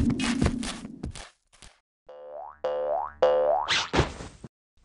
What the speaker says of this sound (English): bounced back into the tree